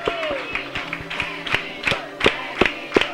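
Studio audience on a Brazilian reality game show clapping for guest Zezinho Noronha, with irregular, fairly sparse claps from a small crowd and background voices.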